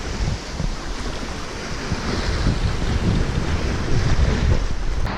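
Steady 14–15 knot wind rushes over a Hallberg-Rassy 54 yacht under sail, buffeting the microphone and mixing with hissing water and surf around the hull, loud and continuous with no voices.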